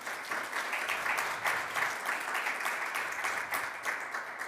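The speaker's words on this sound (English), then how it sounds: "Please give her another round of applause." Sustained applause from a room audience for a speaker at a payments business event, many hands clapping in an even, dense wash of moderate loudness with no talking.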